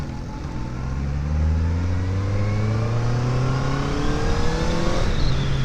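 A Honda CB650R motorcycle engine revs up steadily, its tone climbing smoothly as RPM rises. The engine is loud and close, heard from the rider's seat with no voices.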